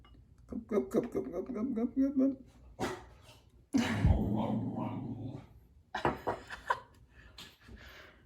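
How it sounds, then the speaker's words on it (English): A dog barks in short bursts nearby, mixed with talking, then a louder, longer stretch of barking or growling follows before voices resume. "That's not our dog."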